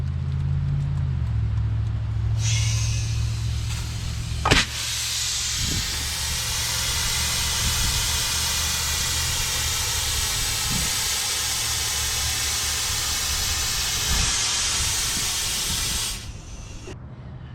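A 2-liter soda-bottle water rocket pressurised outdoors hisses steadily as it leaks, then launches with a loud rushing whoosh of escaping water and air that continues for several seconds over a low engine-like hum.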